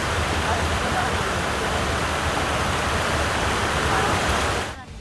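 Floodwater of the swollen Sariswa river in Raxaul, Bihar, rushing in a loud, steady broadband roar that holds unbroken for nearly the whole stretch before cutting off abruptly at the end.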